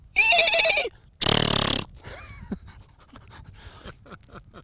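A person imitates a horse with a shrill, wavering whinny, then a harsh blast of breath, followed by quieter snorts and puffs that fade out close to the listener.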